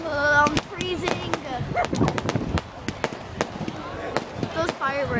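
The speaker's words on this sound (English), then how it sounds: "Those fireworks seem like they're gonna heat us up, but they're not." Fireworks burst over a high school senior night, a rapid run of sharp cracks and pops that follow one another closely, with crowd chatter and voices talking underneath.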